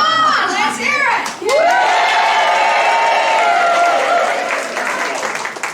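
A theatre audience, children among them, bursts into loud sustained cheering and whooping with some applause for the hero's entrance at a live stage show; one bright voice rises above the crowd.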